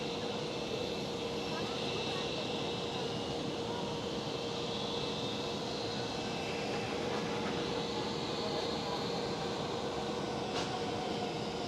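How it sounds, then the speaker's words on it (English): British Airways airliner taxiing at Schiphol airport in Amsterdam, a continuous distant jet engine whine and rumble with a steady tone, heard from outdoors with faint background chatter. "Speedbird taxiing out."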